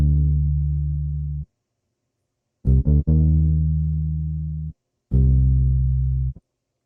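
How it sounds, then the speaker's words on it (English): Deep synth bass one-shot from a one-shot kit, played alone as three sustained notes separated by short pauses, the middle note briefly stuttering at its start, loud and steady with no voices. "we're gonna go into the bass, which sounds like this"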